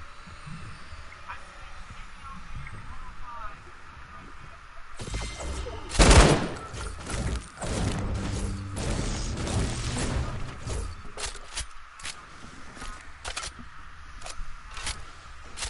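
Light machine gun bursts in the Fortnite battle royale video game, a dense, loud run of rapid automatic fire peaking early, with scattered further shots and game noise, and a player talking over parts of it.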